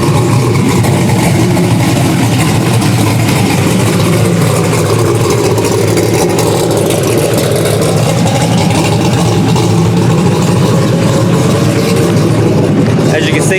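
A drag car engine warming up at Zmax Dragway during Street Car Takeover, a loud, steady rumbling idle close by, with talk over it.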